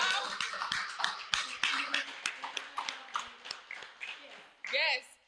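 A small group claps for Cassandra, who brought cookies and baked goods, with scattered, uneven claps close by over several seconds, mixed with voices and chatter and ending in a brief cheer.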